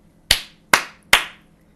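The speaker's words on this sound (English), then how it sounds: "Clap, clap, clap." Three sharp, evenly spaced hand claps, loud and close, each with a short ringing decay and quiet between them.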